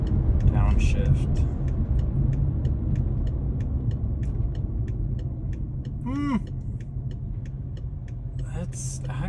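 BMW 545i E60 with a ZF6HP26 automatic transmission, driving with a steady low engine and road rumble. A brief rising engine note comes through during a downshift, and a person talks over the cabin noise.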